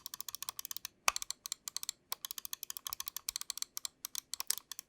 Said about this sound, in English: drop a quick sound test for you guys so you guys can see how these optical switches sound